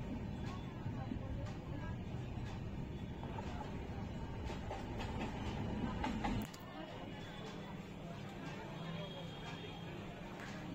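A moving passenger train rumbles steadily past green paddy fields, a continuous low roll with faint clicks and indistinct voices inside the carriage; the rumble suddenly drops to a lighter, quieter rush partway through.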